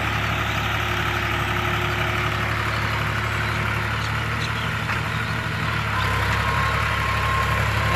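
An HMT 4022 tractor engine labouring under heavy load, a loud, steady low diesel rumble that holds throughout with a slight surge near the end, close by and with no speech.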